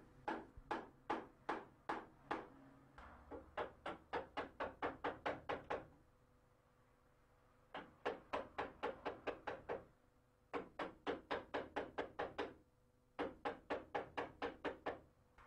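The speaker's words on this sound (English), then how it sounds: "Remove this portion of the door with a chisel and mallet." Chisel struck with a mallet to cut a lock recess into a door, heard as bursts of sharp, evenly spaced knocks that speed up into rapid runs, separated by short pauses, close and distinct with no talk.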